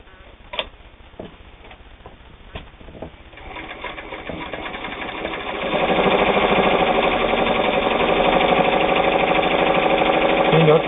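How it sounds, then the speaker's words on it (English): A heavy-duty, Japanese-made Kenmore 158.521 sewing machine sews through eight layers of denim. A few slow clicks and light knocks come first, then the machine runs up into a loud, steady, fast mechanical chatter close by. "We're going to sew 8 layers of denim with this"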